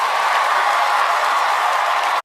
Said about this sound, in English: That was also hopefully stock audio of applause